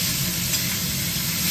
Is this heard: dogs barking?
no